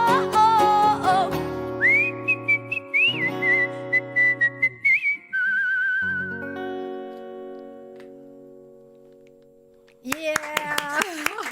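Melodic whistling by a singer during a live song on radio, sustained pitched tones gliding and wavering over instrumental backing, then giving way to a louder burst of music and cheering near the end.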